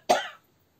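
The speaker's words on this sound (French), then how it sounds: "Vous voyez, je tousse encore." A single short, close cough from a woman recording a knitting podcast, followed by silence.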